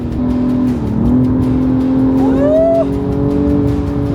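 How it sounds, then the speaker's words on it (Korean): A BMW accelerating hard at high RPM, its engine note loud and close, rising and shifting in pitch as it revs. "밟고 그냥 RPM 높게 다녀도 재밌겠는데 이 차"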